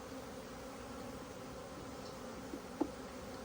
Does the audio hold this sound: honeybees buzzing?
yes